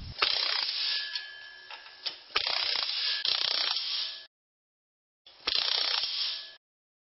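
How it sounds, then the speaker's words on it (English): A bracket is riveted by hand onto the arm of a luggage rack for a Ninja 250 motorcycle, heard as three close bursts of rapid mechanical clicking and ratcheting, the last after a short silence. "and then rivet the bracket onto the arm"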